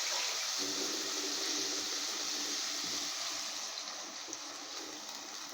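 Tap water runs steadily into a cooking pot holding browned chicken for brown stew, a constant rushing stream close by that eases slightly toward the end, with no talk.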